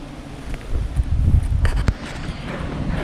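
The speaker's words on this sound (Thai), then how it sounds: "ลมแรงครับเพื่อนๆ" Strong wind buffets the microphone outdoors during a wild honeybee hive harvest, a steady low roar with gusty surges and a few brief rattles and thumps.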